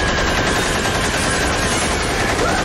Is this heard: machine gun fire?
yes